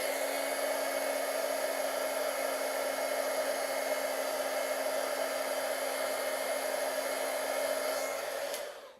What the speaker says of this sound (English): I could probably dry it with my hairdryer.